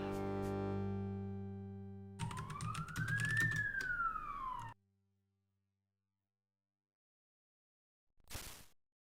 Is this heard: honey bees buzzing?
no